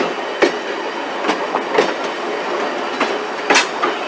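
Train cars on the Durbin Rocket excursion ride roll behind Heisler locomotive number 6, giving a steady rumbling clickety-clack over wavy track, with irregular wheel knocks and joint clunks heard from aboard.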